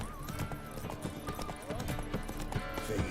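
Hooves of the horse Roach clip-clop at a steady gait in The Witcher 3, with occasional whinnies over game music while someone talks throughout.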